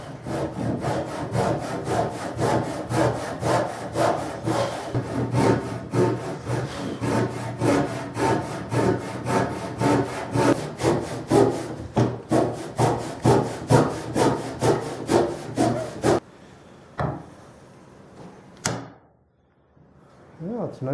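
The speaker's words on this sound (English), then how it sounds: "And I'm going to cut clear through." A handsaw cuts clear through a notch in soft wood for a swing set build, with close, rhythmic back-and-forth strokes, around thirty in a steady run, then stopping for a couple of scraping sounds and handling noises.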